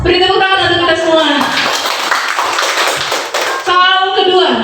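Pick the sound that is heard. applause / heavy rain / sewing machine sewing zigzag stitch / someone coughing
applause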